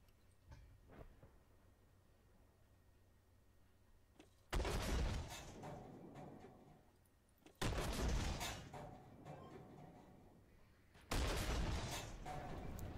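Tank cannon fire aimed at enemy artillery in the video game Armored Warfare: three heavy booming shots spaced a few seconds apart, each a loud blast that rolls off into a long rumbling decay over a quiet engine hum.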